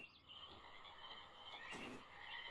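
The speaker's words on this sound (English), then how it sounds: "Oh boy, the frog sound." Frog croaking in the video game Myst, a quiet low croak rising twice over a steady ambient hum in a short stretch.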